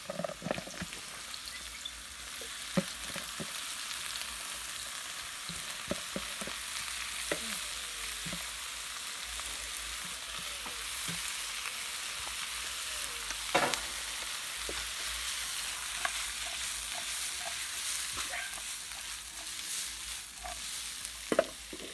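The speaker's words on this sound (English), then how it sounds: "We're going to add the saltfish in it." Boiled, washed saltfish frying in a pan for ackee and saltfish, giving a continuous low sizzle with occasional light stirring clicks and scrapes, close and quiet throughout.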